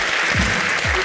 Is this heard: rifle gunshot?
no